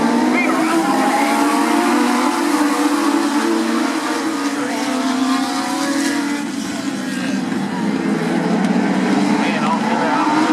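Legends race cars at Indiana's Sportsdrome Speedway roar together at the start of a race, a loud, continuous engine drone over an announcer's commentary.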